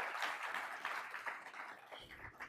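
Audience applause for a Cap Markets team at a live mortgage industry event, a dense steady patter of many hands clapping with faint voices mixed in, lasting throughout.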